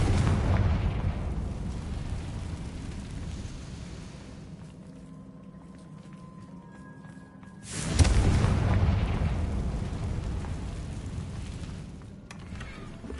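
Confringo fire-spell blasts in the video game Hogwarts Legacy, with a sudden loud booming burst midway that rumbles on after a quieter stretch, over steady background game noise.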